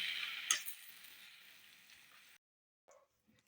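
Spinach sautéing in a pan, a soft close sizzle with a stir clack near the start that stops abruptly, leaving near silence and a couple of faint small knocks.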